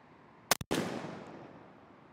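A Winchester SXP 20 gauge pump shotgun fitted with a Verdict choke fires once outdoors during pattern testing, a sharp loud blast with a quick double crack followed by a long fading echo.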